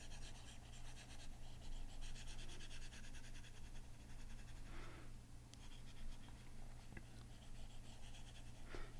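A stylus scratches and rubs across an iPad fitted with a textured plastic screen surface, a faint, continuous dry scratching in short strokes over a low steady hum.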